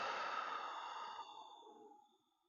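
During gentle yoga, a person breathes out once in a quiet, breathy sigh that starts full and trails off slowly, heard up close and alone.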